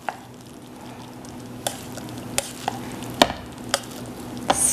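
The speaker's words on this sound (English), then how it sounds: "I'm just going to loosely mix it around" Cooked rice stirred loosely with a spoon in a pan: soft scraping and shuffling broken by several sharp spoon clicks and taps against the pan, close up, with no talk.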